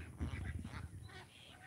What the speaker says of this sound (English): I love the runner ducks.